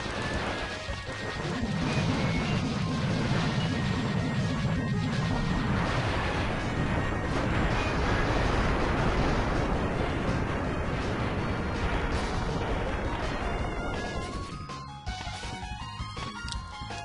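In the Mega Man X video game, the player rides a ship and shoots its blue core: a long stretch of loud, crashing explosions and rapid buzzing shots over game music, thinning out near the end.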